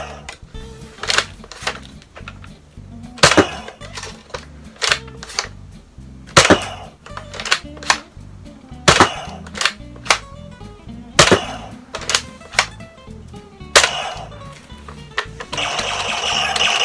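A Nerf Star Wars Captain Phasma toy blaster fires repeatedly in the dark, sharp snapping shots at uneven intervals between mechanical clicking and whirring, close to the microphone, building to a louder rattling burst at the end.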